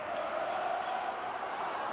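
Crowd noise from a basketball arena during the 1989–90 Recopa final between Knorr Bologna and Real Madrid, a steady, distant roar of cheering voices that stays level throughout.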